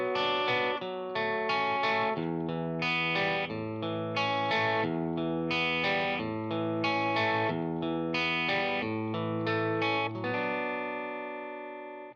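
An electric guitar with distortion plays the riff from a song, repeated chopped chord stabs in a steady rhythm, loud and close, ending on a ringing chord strummed across the strings.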